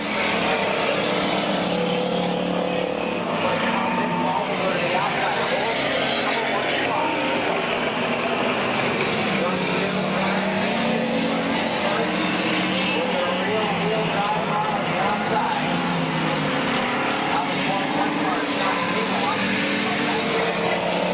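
Race cars roar around the track at Midvale Speedway in 2001: a dense, constant engine drone fills the whole stretch while an announcer talks over it.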